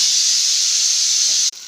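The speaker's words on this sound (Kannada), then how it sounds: "ನಮ್ಮಮ್ಮ ಫಸ್ಟ್ ಟೈಮ್ ಫಿಶ್ ತವಾ ಫ್ರೈ ಮಾಡ್ತಾ ಇದೆ" Jilebi fish (tilapia) tawa-frying in a hot pan gives off a loud, steady, close sizzle that holds evenly and then cuts off abruptly near the end.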